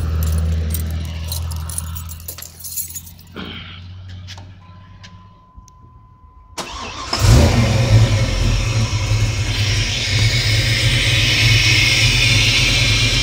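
A 1980 Chevy Malibu wagon with a 6.0L engine turns over after a few quiet rattles and jingling keys, then runs loudly and steadily up close, holding a rough, full-bodied idle with rising revs.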